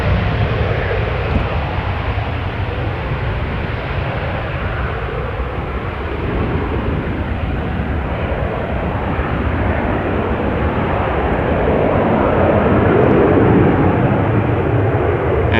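Steady, loud jet engine roar from an airliner at Amsterdam Schiphol Airport, a broad continuous rumble that holds for the whole stretch with no talk.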